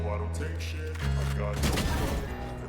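Gunfire crackles in a shooter video game, a couple of loud close bursts of shots over steady game ambience while a player talks.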